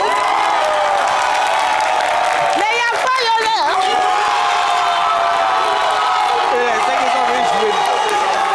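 Studio audience on a lively TV entertainment show cheering, shouting and clapping in a loud, continuous roar, with voices of children and adults rising over it and a presenter talking through.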